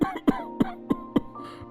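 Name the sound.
man coughing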